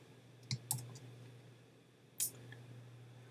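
A computer mouse clicks a few times while files are dragged into a terminal window, with two or three sharp, faint, close clicks spread apart over a low steady hum.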